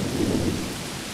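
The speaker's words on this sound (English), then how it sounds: "But I love the rain sound in Classic Mission." Heavy rain with a deep rumble of thunder in the wargame Combat Mission, a loud, steady wash of noise that swells early and then holds evenly.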